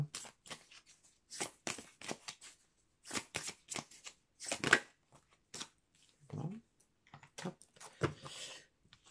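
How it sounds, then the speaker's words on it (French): Oracle cards being shuffled and drawn by hand, quiet close-up bursts of papery riffling and flicking in an irregular rhythm with short pauses between handfuls. "je vais prendre une carte conseil dans l'oracle de la loi d'attraction"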